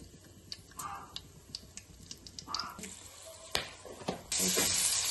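Cinnamon, cloves and a bay leaf fry in hot oil, giving quiet scattered pops and crackles, a few clinks of a spoon, then a louder burst of sizzling near the end.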